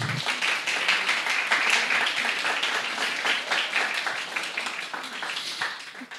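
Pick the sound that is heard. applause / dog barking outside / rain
applause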